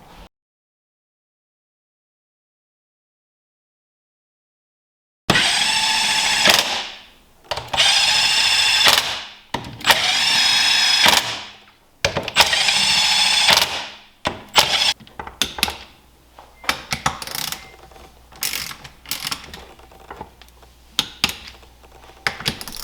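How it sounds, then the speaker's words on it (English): Bolts on a Sea-Doo 787 two-stroke engine crankcase being torqued to spec with a wrench, heard as several loud, long bursts of metallic ratcheting, then a run of shorter clicks and taps, with no talking. "and then you're going to torque them all to spec."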